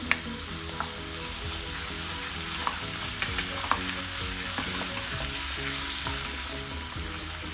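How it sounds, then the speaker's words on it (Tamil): Onion, garlic and ginger sauté in a hot pan, a continuous close sizzle broken by scattered scraping stirs and light clicks, with no voices. "வெங்காயம் இஞ்சி பூண்டு எல்லாமே நல்லா வதங்கிருச்சு"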